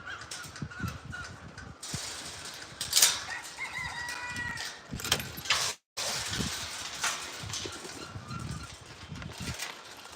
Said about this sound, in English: My chickens are mad at me.